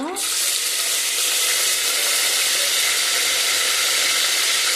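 Whole spices, bay leaves, cloves, cinnamon and mint fry with onion in hot oil, a loud, continuous close sizzle with steady stirring throughout.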